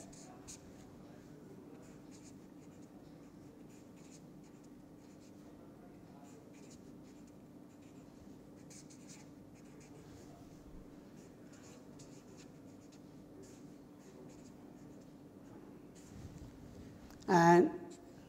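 Pen or chalk writing during a lecture, faint scratchy strokes in short clusters under a steady background hum, with one loud brief clatter near the end.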